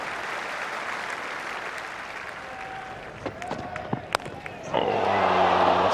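Cricket crowd at an Ashes Test between England and Australia, a broad wash of applause and murmuring in the stands, with scattered knocks, then a swelling roar of oohs near the end under a commentator's voice.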